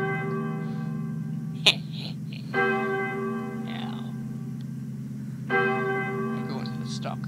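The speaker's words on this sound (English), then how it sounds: "Can you hear that bell ring?" A deep, resonant bell tolls in a video game, with two slow strikes several seconds apart ringing out over a low droning music bed, plus a brief click between.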